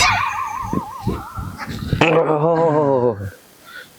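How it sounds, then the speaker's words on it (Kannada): A dog whines and yelps in wavering, high-pitched cries, then lets out a longer drawn whimper, close by amid some rustling. "ನಾಯಿ ಬಂತು."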